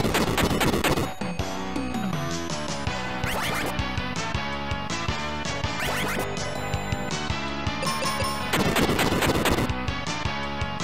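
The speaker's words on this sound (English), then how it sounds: "I'm just gonna use bombs." Bombs exploding during a battle in the video game Mystic Quest, a rapid crackling barrage of blasts layered over loud, continuous game music with no talking.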